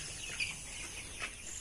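Tiger breed chickens and chicks on a poultry farm in Gazipur, faint scattered clucks and soft chirps from a few birds over a quiet background.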